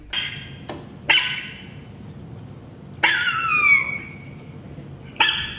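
A chihuahua gives a few sharp, high yappy barks at irregular intervals, close and loud, one trailing into a whiny yelp, with quiet gaps between them.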